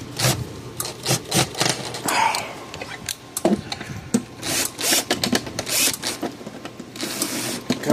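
Screwdriver bit turning Torx screws on a Parmak Mark 8 fence charger, with irregular close scraping, clicking and ratcheting bursts and small knocks throughout, under occasional muttered speech.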